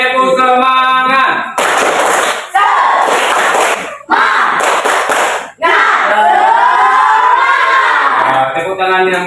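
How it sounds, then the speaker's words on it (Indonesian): Schoolchildren repeat the 'tepuk semangat' clap, with sharp, loud bursts of unison hand claps in a set rhythm, alternating with their chanted and sung voices, close by in a classroom. "Sekali lagi, tepuk semangat."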